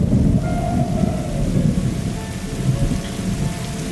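Heavy rain pours steadily with a deep, rumbling roll of thunder underneath, continuous and close throughout.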